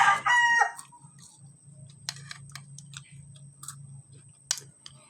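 A labuyo, or red junglefowl, rooster lets out one loud, close crow at the start. A low steady hum, a few faint clicks and chirps follow, with no one speaking.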